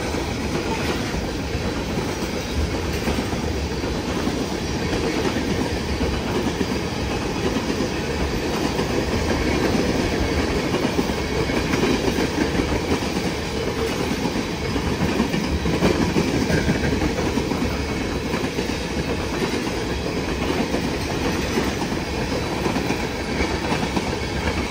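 Freight train rolling past on tracks, a continuous loud rumble of railcars with rhythmic clickety-clack of wheels over rail joints and occasional faint squeal, no voices.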